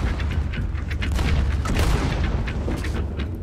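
A heavy, rumbling explosion from a grenade or dynamite in Red Dead Redemption 2 fills the whole moment with a dense, continuous roar and crackle, loud and close, with no talk over it.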